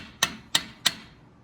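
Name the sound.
tapping Jeep Wrangler brake caliper to free trapped air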